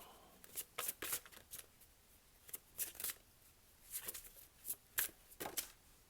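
A tarot card deck being shuffled by hand, soft close riffling bursts in an uneven rhythm, quiet and without speech.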